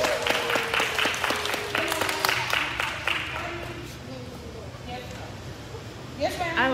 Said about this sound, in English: Clap it up, y'all. Clap it up for that.